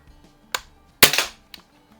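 A Crosman 2200 Magnum air rifle fires: a sharp, fairly weak pop with a short tail, framed by two fainter clicks of the mechanism, alone and close.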